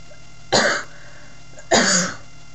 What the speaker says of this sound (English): with the heat, it gives me a really bad dry cough at times.